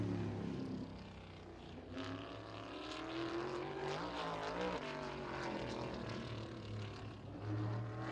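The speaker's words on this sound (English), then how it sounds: "A lot of throttle action down the back straightaway." A race car engine at Anderson Speedway during Little 500 qualifying, throttling steadily down the back straightaway, a continuous loud droning engine note that rises and eases without pause.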